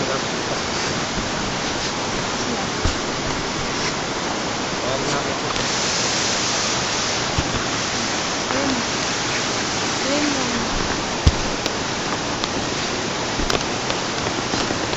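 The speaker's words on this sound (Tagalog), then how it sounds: "Yan yung ilog sa Mahayhay" Steady rushing water of a river in Majayjay, Laguna, fills the whole stretch with a constant broadband roar and no clear talk.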